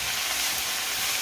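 Fenugreek leaves dropped into a hot pan fry with a steady, close, hissing sizzle that runs unbroken throughout, no voices.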